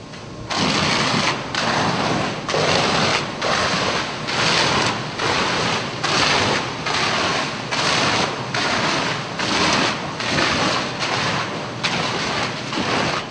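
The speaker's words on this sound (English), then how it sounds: "face the exposed side of that assembly towards a fire water hose stream application, the typical fire department hose stream at approximately 30 psi." A fire department hose stream at about 30 psi strikes a fire-rated gypsum wall with a loud, broadband roaring spray, surging and dipping in a steady rhythm about every second.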